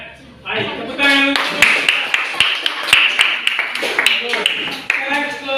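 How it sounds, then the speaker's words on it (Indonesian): Students in a classroom clap in a short burst of rhythmic applause, sharp claps close by mixed with voices and cheering. "Baik, tepuk tangan."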